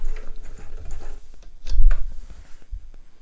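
A home sewing machine running a short back stitch while finishing a zip pouch, a quiet, fast mechanical ticking and whirring that rises briefly in the middle, close by with no talk.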